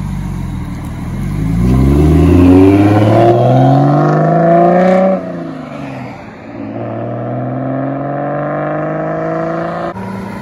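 Modified BMW 335is with N54 engine and big single turbo accelerates hard past, engine revving and climbing through gears, loud and close, then easing off and pulling away again.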